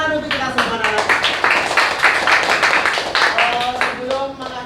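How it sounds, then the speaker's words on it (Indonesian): Schoolchildren in an elementary school classroom clap together in a brisk, loud burst of hand claps, with young voices calling out over and between the claps. "Oke, tepuk tangan untuk kita semua anak-anak."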